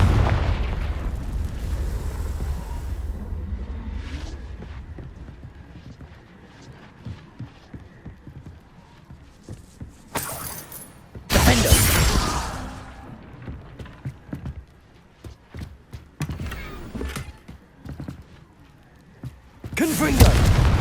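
Confringo blasting spells in Hogwarts Legacy burst in several loud, booming explosions at irregular intervals, mixed with rumbling combat noise and scattered impacts.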